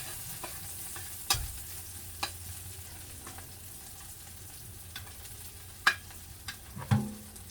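Tomato and garlic sautéing in a pan, a steady faint sizzle broken by a few sharp clinks and scrapes of a spoon stirring, with no talking.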